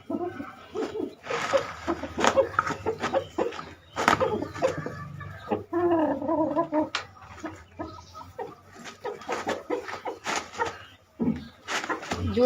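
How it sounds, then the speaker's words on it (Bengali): A farmyard rooster clucks in loud, close, irregular bursts, with short pauses and occasional sharper calls between the clucks. "এই দেখো আমাদের মোরগ ডিম পাড়ার জন্য যুদ্ধ করতেছে"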